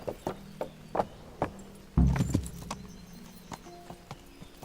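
Horse hooves in Kingdom Come: Deliverance clop in an irregular series of sharp, close hits, with a heavier thud near the middle and a faint tonal hum behind, no speech.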